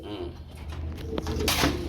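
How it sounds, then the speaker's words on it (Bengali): Soft pigeon cooing close by at a pigeon market against a busy background hum, with a brief rustle toward the end. "এখানে দেখতে পাচ্ছি আমরা আরেক জোড়া কবুতর রয়েছে"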